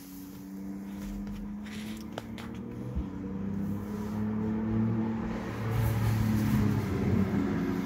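Corvette rally car on a Targa Tasmania stage at Weldborough Pass, its engine a steady low drone that swells as it approaches and passes, with brief footstep-like knocks early on and no talk.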